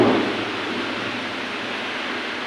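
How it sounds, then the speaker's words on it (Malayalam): Heavy rain pours down in a steady broad hiss, with a low rumble of thunder that swells briefly at the start and then fades beneath the downpour. "അപ്പം അതിൻ്റെ ഇടിയുടെ കുറച്ച് ശബ്ദവും നല്ല വെട്ടക്കുറവും നിങ്ങൾക്ക് ഫീൽ ചെയ്യും"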